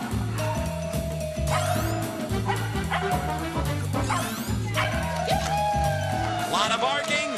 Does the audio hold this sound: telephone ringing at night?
no